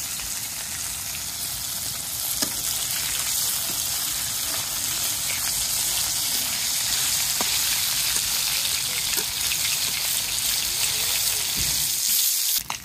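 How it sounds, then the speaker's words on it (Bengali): Fish frying in a pan in a home kitchen, a steady, dense sizzle and crackle that fills the whole stretch at close range, with a few sharper pops along the way. "এই যে মাছ ভাজি হয়ে গেছে, এখন নামিয়ে নিতেছেন"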